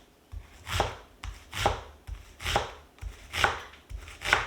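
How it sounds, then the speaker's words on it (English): Rhythmic knife chops on a cutting board while mincing onion, about five firm, evenly spaced strokes each followed by a brief scraping rub, close and clear with no talk. "It doesn't really specify how the onion should be chopped, so I'm just going for a mince."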